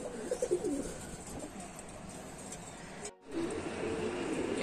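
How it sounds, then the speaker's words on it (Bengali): Soft, low cooing from racing pigeons back home after a 20 km open-site tournament, a few rhythmic coos near the start against a steady background hum, faint and close. "বাসা এসে দেখি দুইটা কবুতর নিচে এসে বসে আছে"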